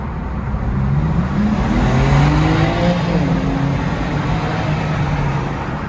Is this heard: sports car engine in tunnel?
yes